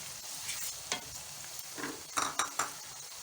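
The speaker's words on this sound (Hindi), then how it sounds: "अब इसमें मैं अदरक लहसुन का पेस्ट डालूँगी 1 टेबल स्पून के सामने।" Ginger garlic paste fries in a pan with soft sizzling while a spoon stirs and scrapes, giving several sharper clinks and scrapes over the sizzle; close and fairly quiet, no talking.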